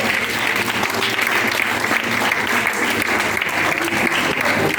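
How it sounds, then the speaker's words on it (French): A church congregation claps and cheers in acclamation of the Lord, a dense, steady wall of applause that fills the whole moment without pause. "On acclame le Seigneur"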